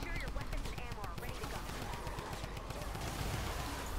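Rapid bursts of automatic gunfire in Fortnite, loud and continuous, firing in quick succession throughout.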